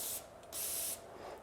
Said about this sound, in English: I'll take the cleaner and just spray that off a little bit.